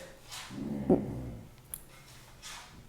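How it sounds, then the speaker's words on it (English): A dog gives one short, fairly faint bark against a quiet background. "that's my dog"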